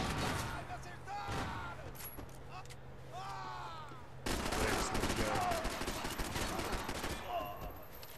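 Gunfire in the video game Max Payne 3: rapid bursts of shots and sustained automatic fire, fairly loud and continuous, with voices talking over the shooting.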